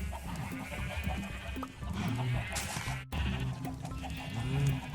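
Minecraft sheep bleat several times in close succession, mixed with other farm-animal noises in a busy, continuous game soundscape.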